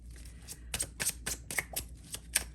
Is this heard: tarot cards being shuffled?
yes